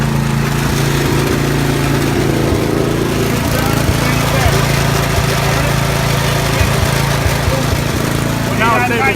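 A 36-inch Bunton walk-behind lawn mower runs with a steady, loud, close engine drone throughout, with people talking over it.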